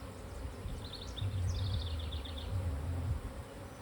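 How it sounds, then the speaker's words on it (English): Honey bees drone and buzz in a low, continuous hum during a hive inspection, close and fairly quiet, with a few brief higher-pitched flutters over the swarm's steady murmur. "If you blow on her gently, they tend to scatter a little."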